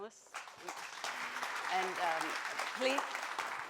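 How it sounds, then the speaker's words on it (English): An audience applauds the panelists at the close of a BE Summit 2024 innovators panel session, with steady broadband clapping running throughout and a few voices speaking over it. "Round of applause for the panelists."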